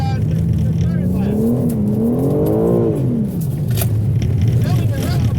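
Race cars finish a lap with an engine whine climbing and falling as it passes close by, layered over steady rumbling motors and a commentator talking throughout.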